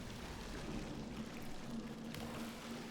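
Water flows in the video game Portal 2 as a continuous, muffled rushing wash with no voices over it.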